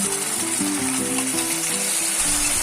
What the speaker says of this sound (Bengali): এবার মশলার পেস্ট ঢেলে দিচ্ছি।